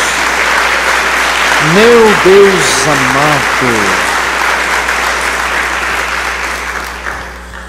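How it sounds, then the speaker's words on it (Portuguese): Church congregation applauding, a loud, broad wash of clapping that carries throughout and fades toward the end, with a voice speaking briefly over it. "Dê uma salva de palmas a Jesus."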